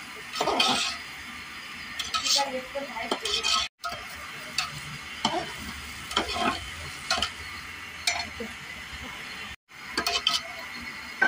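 Wheat lapsi with dry fruits and cardamom being stirred in a pot, a spoon scraping and clinking in irregular strokes with soft sizzling beneath, broken by two brief silences and a few faint voices.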